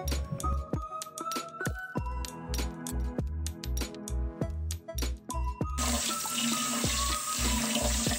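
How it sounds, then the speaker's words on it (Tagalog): Mung beans are washed under a running kitchen faucet, water splashing and trickling in uneven bursts with small clinks against the bowl, then a steady louder gush near the end. "Hugasan muna natin yung munggo."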